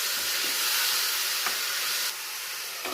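Bitter gourd pieces frying in a generous amount of oil give a steady, close, dense sizzle and hiss that stays constant, then drops slightly in level near the end.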